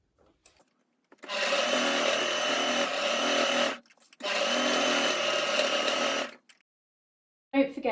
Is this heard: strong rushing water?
no